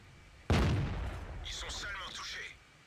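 A tank gun fires in a tank video game, one sharp booming shot followed by a rumbling tail, with metallic clanks and rattles trailing off over about two seconds.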